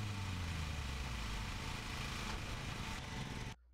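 A lawn mower engine from the video game Lawn Mowing Simulator drones steadily and loudly with a rough low rumble, then cuts off abruptly near the end.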